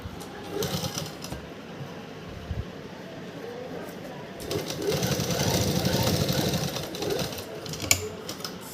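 A sewing machine stitches along the neckline of a kurti, its motor whirring in short bursts and then a longer steady run, with a voice speaking over parts of it.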